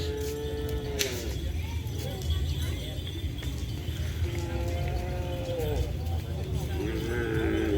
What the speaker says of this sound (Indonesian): Tuh ada sapi yang mau dilepas.